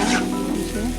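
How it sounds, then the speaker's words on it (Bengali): Fried pumpkin and chickpeas being stirred in a pan, giving a brief, close sizzle with soft scraping under a continuous frying hiss. "ভাজিগুলো দিয়ে এখন ভালোভাবে একটু নেড়ে চেড়ে দিলাম"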